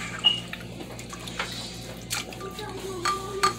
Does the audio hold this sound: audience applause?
no